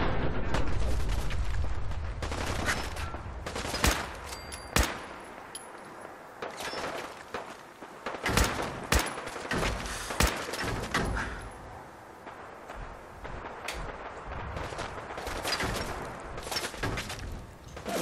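Scattered gunfire in Fallout 4 at the Coast Guard Pier, sharp irregular shots and short bursts cracking out at varying distances over a low rumbling backdrop.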